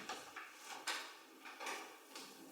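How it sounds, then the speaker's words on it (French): A few faint, scattered knocks and wooden clatters of a door being opened indoors, with short irregular bumps and rattles and no talking over them. "j'entends la porte"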